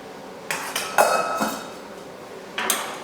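A simmering pot of Caribbean food stirred on the stove, a few quick metallic scrapes and clinks of a spoon against the pan, close and fairly loud, with a short pause between strokes and no talk.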